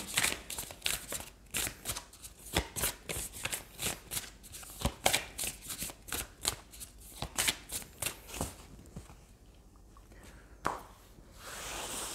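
Tarot cards shuffled by hand in a run of quick, crisp riffling bursts, close and fairly loud, repeating rhythmically for several seconds before a quieter pause and one final burst.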